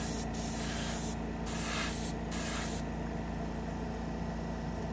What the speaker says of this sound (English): Yeah, I love the way this airbrush flows now. Constant pressure, no drop off, no lacking.